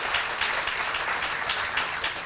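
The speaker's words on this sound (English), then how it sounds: "So please give him a round of applause." Audience applause at the opening of a new county library in Middletown, a brief burst of steady, dense clapping from a gathered crowd, fairly close and even throughout.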